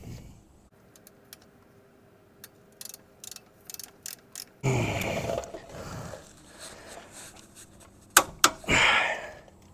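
Ratcheting clicks from a torque wrench tightening the rear caliper nut on a 2005 Ford F250, set to 150 foot-pounds, heard as sparse close clicks followed by louder mechanical bursts near the middle and end.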